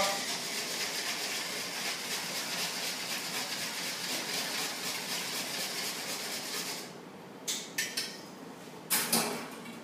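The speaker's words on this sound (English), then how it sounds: "So that's your wet ingredients. Whisk them together." A whisk beats wet scone ingredients together in a bowl with fast, even, scratchy strokes for several seconds, then stops, followed by a few sharp taps against the bowl.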